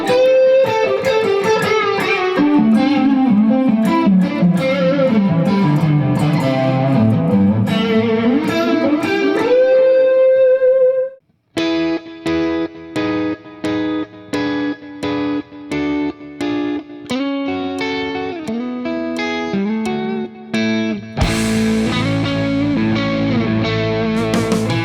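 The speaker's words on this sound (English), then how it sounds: "So I actually use a couple of deluxe Memory Man echoes in the effects loop." Electric guitar played through Deluxe Memory Man echo units in an amp's effects loop, loud distorted lines with trailing repeats, a gliding sustained phrase, then choppy rhythmic stabs and a final dense chord wash, with no talking.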